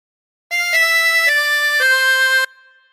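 A 24-hole tremolo harmonica plays a short phrase of Three Blind Mice, four sustained wavering notes stepping along in a steady rhythm, bright, close and loud, with a brief fading tail and no voices.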